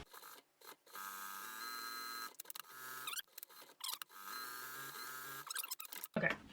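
A sewing machine stitches down the edges of a fabric ramp cover for a small animal cage, giving a steady close mechanical whirr in several runs broken by short pauses.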